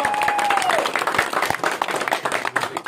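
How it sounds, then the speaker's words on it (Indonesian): A small group clapping hands at an outdoor land execution gathering, uneven scattered claps close by, with people talking over it. "Saya tepuk tangan."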